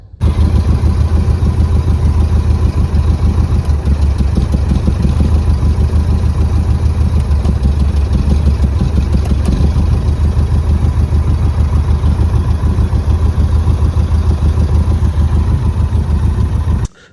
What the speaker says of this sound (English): we've checked that the magnetos are not cutting out during an idle operation